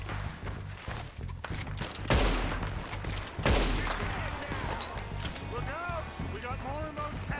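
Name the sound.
gunfire in Red Dead Redemption 2 video game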